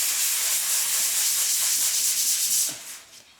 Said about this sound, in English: So what happens if you hit that with sandpaper right now?